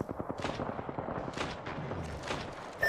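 Gunfire in Apex Legends, with a quick run of rapid shots and several louder distant-sounding booms over a few seconds, mid-distance and fairly loud.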